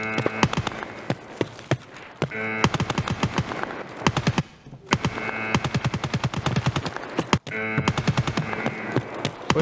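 Long bursts of rapid automatic fire from a mounted machine gun in Escape from Tarkov, loud and close, broken by brief pauses between strings of shots.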